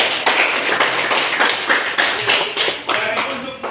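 A classroom group claps together in a brisk, steady rhythm, about a dozen sharp, bright claps over a few seconds, loud and close, with faint voices mixed in.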